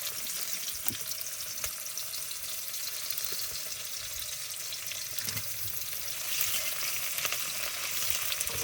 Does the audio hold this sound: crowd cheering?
no